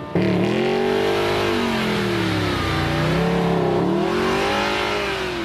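A Ferrari's engine revs hard for a launch-control start on a flight deck, climbing and dipping in pitch as it accelerates, loud, close and continuous.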